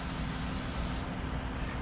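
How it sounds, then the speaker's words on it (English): Cooking spray hisses steadily from an aerosol can onto hands while a meatloaf is being prepared, a close, continuous broadband spray lasting about a second before it cuts off. "I spray my hands, since we got to spray the dish anyway."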